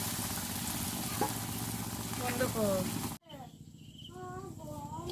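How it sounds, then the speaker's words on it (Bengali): Bottle gourd leaf chops fry in hot oil with a steady soft sizzle and crackle, quiet and close, then the frying drops away abruptly and faint background sounds continue. "এই যে দেখুন উল্টে পাল্টে ব্রাউন কালার করে ভেজে নিয়েছি"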